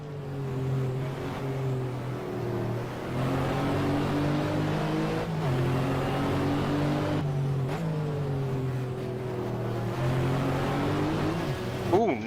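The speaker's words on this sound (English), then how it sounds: "Really kicking that clutch and throttle when I'm downshifting now." A race car in the FIA GT class, driven in a racing game at Monza, revs and drops through the gears with clutch and throttle blips, a loud close engine tone rising and falling in pitch with each downshift.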